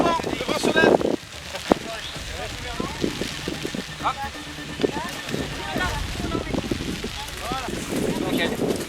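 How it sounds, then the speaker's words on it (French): Wind gusts roar across a sailboat out on open water as the breeze picks up, with steady rushing noise and microphone buffeting underneath voices talking throughout. "Le vent se lève."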